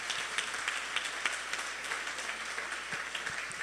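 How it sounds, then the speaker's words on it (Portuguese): A church congregation claps during a service, quiet and somewhat distant, a continuous wash of many hands with a few sharper individual claps standing out. "vamos aplaudir o Senhor"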